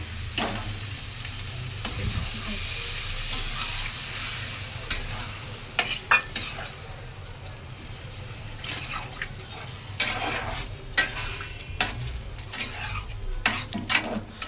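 Water poured into a pan of well-fried Bengali masala sets off a loud, steady sizzle, followed by repeated scraping and stirring strokes of a spoon against the pan.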